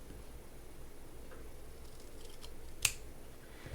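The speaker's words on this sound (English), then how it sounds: "I'm going to just take my scissors and kind of cut" A pair of scissors gives a single crisp snip while trimming the edges of washi tape, one short close cut against a quiet room background.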